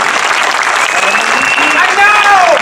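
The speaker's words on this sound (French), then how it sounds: "s'il vous plaît, applaudissements" An audience applauds at a ceremony for the mayor, Monsieur de Koning, with dense, even clapping that runs throughout and a voice carrying over it.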